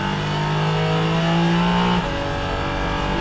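A Porsche Cayman GT4 RS Clubsport race car, fitted with a GT3 engine, accelerates hard on track, its engine note climbing in a loud, steady rising howl before a gear change drops the pitch, with no talking.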